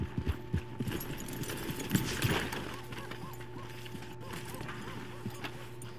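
Horse hooves clip-clop at an easy walking pace in Red Dead Redemption 2, moderately close amid ambient game sound, with a brief busier patch of footfalls near the middle.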